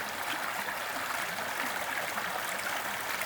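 Running stream water where a filter float is dropped in for purification, a steady rushing and trickling flow that stays even and close throughout, with no voices.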